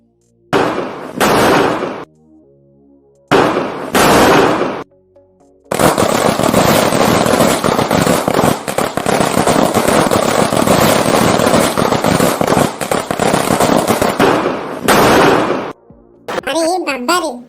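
Cartoon firecrackers and fireworks bursting for a Diwali celebration: a few short loud bursts, then a long, dense, continuous crackling barrage that ends with another sharp burst and pop.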